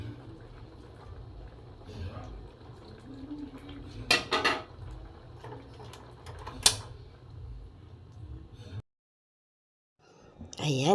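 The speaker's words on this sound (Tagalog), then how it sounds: "Magsasandok naman ako ng aking ulamin." A ladle scrapes and clinks against a metal pot while cooked dinengdeng, an Ilocano vegetable dish, is served out, with a few sharper clanks, steady background hum and faint talk, then a brief silence.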